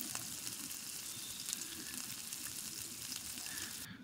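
Flour stirred into butter in a pan for a butter garlic chicken gravy gives a constant close frying sizzle with soft scraping from the spoon. No one speaks.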